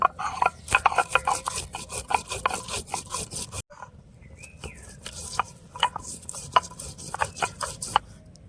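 Garlic, ginger, cumin, cardamom, clove and cinnamon are ground on a stone with rhythmic, gritty back-and-forth rubbing strokes, close and steady. The strokes pause briefly midway and then resume at a similar pace.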